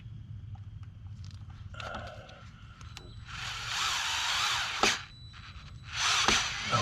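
Screws are driven during a repair on the boat Wave Dancer, with two long bursts of a cordless driver's whir, each ending in a sharp knock, following quieter tapping and handling noises.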